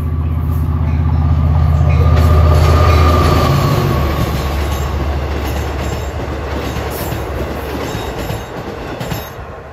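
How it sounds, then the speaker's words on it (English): A Long Island Rail Road train to Hempstead pulls into Elmont station with a loud, close, steady rumble, a low droning tone that fades after a few seconds, and rattling wheels over the rails. "The 6:35 train to Hempstead will arrive"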